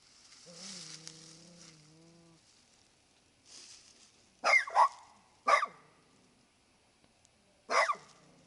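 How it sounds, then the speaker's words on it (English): A dog lets out several sharp, separate barks, near and fairly loud, with quiet gaps between them after a brief whine-like tone at the start. "You don't know which one you want to bark at"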